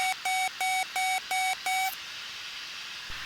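Autopilot disconnect tone in a Cirrus aircraft: six evenly spaced, loud electronic beeps in a steady rhythm over about two seconds, followed by a constant cockpit hum.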